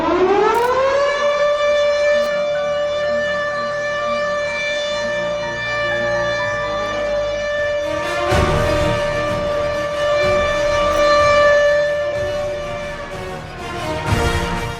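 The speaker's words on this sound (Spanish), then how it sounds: "Suena la sirena, suena la sirena." A civil defense air-raid siren winds up and holds a loud, sustained wailing tone for the whole stretch, with some rumbling noise entering partway through and no voices.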